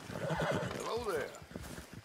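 A horse in the Red Dead Redemption 2 video game gives a clear whinny with a few hoof clip-clops, heard at moderate distance in a short burst. Voices talk over it.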